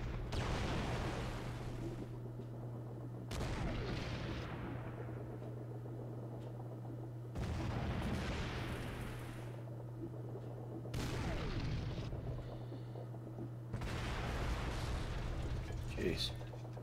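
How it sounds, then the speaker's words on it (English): Heavy artillery barrages boom in the Panzer Corps wargame, arriving in four deep rolling volleys that each decay slowly over a low steady game hum. "Look at all that artillery."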